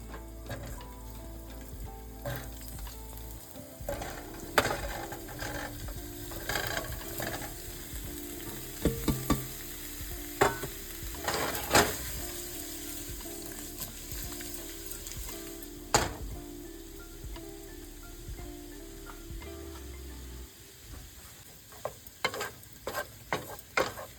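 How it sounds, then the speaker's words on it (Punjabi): Paneer pieces roasting in hot oil in a pan sizzle steadily and close by, with sharp clicks and scrapes of stirring breaking through the constant frying hiss. "ਆਪਾਂ ਹੁਣ ਪਨੀਰ ਥੋੜਾ ਜਿਹਾ ਰੋਸਟ ਕਰਨਾ ਹੈ"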